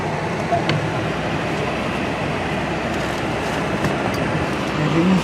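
A CN freight train rolls past eastbound in Kimball Township, its steady broadband rumble and wheel noise continuous and fairly close throughout, with faint brief voices near the start.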